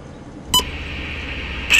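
Two short electronic beeps separated by a steady high tone from a CN railway hotbox detector, clear and close, with a low background hum.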